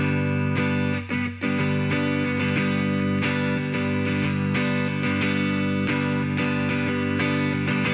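An electric guitar rings out through a lush, dark reverb tone, with sustained strummed chords and steady picked notes washing into a long, smooth tail.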